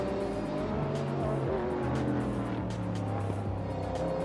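Porsche GT race cars battling at Sepang International Circuit in Malaysia, a steady loud engine roar with tire noise filling the scene, no voices.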